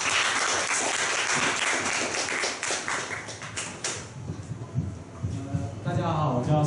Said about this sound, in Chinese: 掌声欢迎